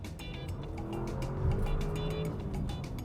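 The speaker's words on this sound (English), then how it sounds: "you could still hear the engine just take off" Engine of an Audi SQ7, a 500 hp SUV, accelerating, a steady low rumble heard from inside the cabin, rising slightly midway and holding at a moderate level throughout.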